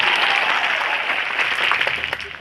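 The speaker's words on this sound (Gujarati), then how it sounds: "આપણે જોરદાર તાળીઓ પાડી લઈએ" A crowd claps loudly and continuously at a political rally meeting in Athadungri. The dense applause holds steady, then thins slightly toward the end.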